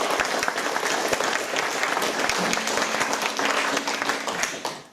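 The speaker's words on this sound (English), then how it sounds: "Can we just have a massive round of applause for Kev on the sound and lights as well?" Village hall audience at Bow giving a sustained round of applause for the sound and lights technician, dense close clapping throughout with a few sharp claps standing out before it fades at the end.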